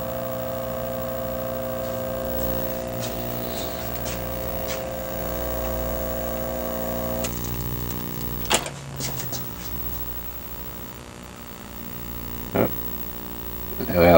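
A Victron fan motor after a wiring repair runs on a test cord, giving a steady, smooth electrical hum with a faint whine throughout, broken by a few brief knocks and clicks near the end.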